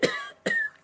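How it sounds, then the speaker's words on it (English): Two sharp, close coughs from a man, a short pause between them, dry and raspy like a smog-choked throat. "please pardon my"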